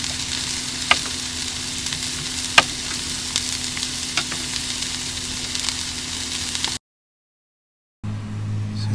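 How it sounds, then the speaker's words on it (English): Onions cooking in olive oil with salt and basil, a steady close sizzle with a few scraping clicks for about seven seconds, then a short silence before the frying resumes. "They're just onions cooked off in some olive oil, some salt, and I added some basil there."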